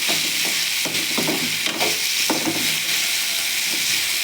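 Beetroot pieces frying in a pan give a steady loud sizzle, with a few soft stirring scrapes and bumps, close up and without any talk.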